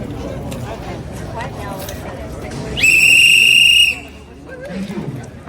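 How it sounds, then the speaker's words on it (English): A loud, steady whistle blast lasting about a second rises over the crowd babble and chatter of an outdoor candidates' event at a Ballard shipyard in Seattle. "Let's get the whistle going again."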